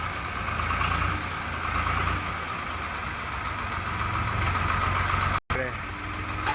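A tractor engine idles steadily at close range while the machine is edged forward during fodder loading, a continuous low rumble that runs throughout with a brief dropout near the end.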